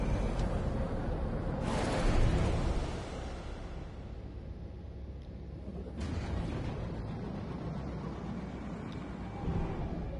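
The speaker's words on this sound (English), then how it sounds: "Yeah, the fireworks are cool, dude. I love the fireworks." Fireworks in a video game burst twice, each a broad whooshing boom that fades into a low rumble, sounding moderately loud over a steady background.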